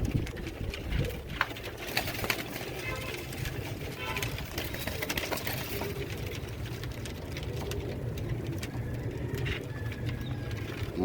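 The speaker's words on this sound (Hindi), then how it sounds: "ये सब अली वाले कबूतर हैं ओरिजिनल" Ali Wale pigeons, an original breed kept for export to Oman, coo and shuffle softly throughout amid steady background clatter, with a voice talking over the birds.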